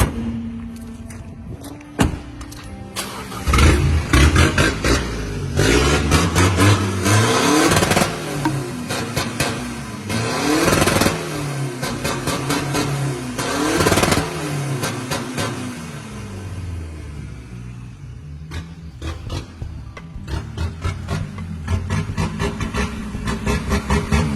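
A tuned turbocharged car engine revs hard and loud, rising and falling through repeated sweeps with a busy, layered mechanical roar and sharp pops, close by and with no talking.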